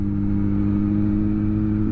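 A Yamaha FZ6 motorcycle engine idling steadily after a fuel pump fault, a constant low throbbing hum heard close and even throughout.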